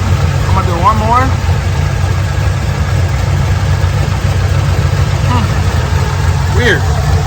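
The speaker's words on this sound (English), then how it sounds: "This engine seems to be good." A car engine idles steadily and close during a head gasket test, a constant low rumble running the whole time with a voice speaking briefly over it.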